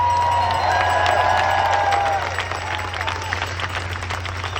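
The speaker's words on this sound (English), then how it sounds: "A round of applause for Brett" Crowd applause and cheering at the Rescue the Republic event with Russell Brand and Jordan Peterson, a dense wash of clapping with some shouts and whistles, louder at first and easing slightly after two seconds, over a steady low hum.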